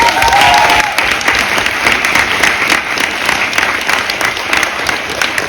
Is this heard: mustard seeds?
no